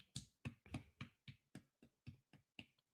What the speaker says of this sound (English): I'm going to applaud you